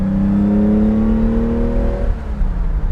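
A 1972 Ferrari 365 GTC/4 engine pulls hard on a farm road, its loud, steady revs rising through a gear before the pitch drops at a shift and climbs again.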